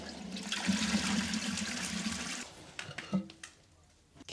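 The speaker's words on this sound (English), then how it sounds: "Second step, flush the toilet." A toilet flushes close by with a loud gushing rush of water that drains away after a couple of seconds, followed by gurgles, clunks and trickling as the cistern refills.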